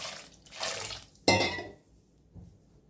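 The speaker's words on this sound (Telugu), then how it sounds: "ఇంకొంచెం వాటర్ వేసుకుందాము." Water poured into cucumber and tomato dal in a pot, two short splashing pours close by, the second sharper, then quiet drips fading out.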